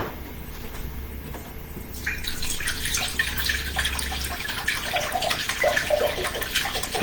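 Orange juice pours into a measuring cup, a steady liquid stream running for several seconds with faint splashing and trickles, heard alone at close range.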